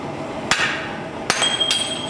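A hammer strikes hot steel while a throwing axe is forged: three sharp, ringing metallic blows, close and loud, spaced unevenly over a quiet background.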